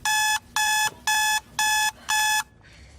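An alarm clock rings in five loud, evenly spaced electronic beeping bursts, close by and alone.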